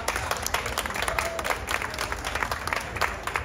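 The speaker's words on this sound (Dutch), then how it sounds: "Ik wil graag even een applaus voor Christy Snapvangers." An audience applauds at an equestrian military eventing competition, a moderate patter of clapping hands lasting a few seconds, heard at a slight distance in an outdoor setting.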